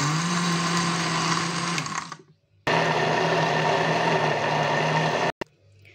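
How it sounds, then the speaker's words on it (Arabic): An electric blender whirs loudly as it purees a homemade chicken luncheon mixture with salt, garlic powder, onion powder and cardamom. It runs in two bursts separated by a short pause, then cuts off. "ونضرب كل ده تاني في الخلاط"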